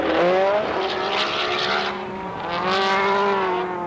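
Several SAAB 99 rallycross cars on the last lap at Lydden Hill in 1986 roar past, engines revving hard and rising and falling in pitch, loud and close with overlapping engine tones.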